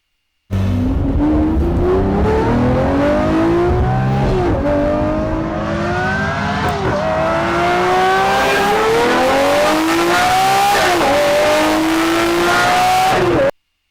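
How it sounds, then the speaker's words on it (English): A Lamborghini Murcielago SV engine revs hard and loud at speed in repeated rising surges, each climb cut by a brief shift, with faint tire noise under the roar. "If you've ever heard of a Murcialgo on full speed, it's just unreal."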